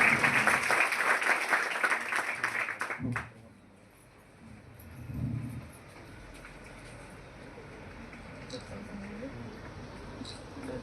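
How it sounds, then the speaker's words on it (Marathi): Audience applause at a Koregaon event supporting education for poor students, a loud burst of clapping for about three seconds that cuts off abruptly, followed by quiet room noise with faint voices. "सर्वांनी जोरदार टाळ्या वाजवायच्या."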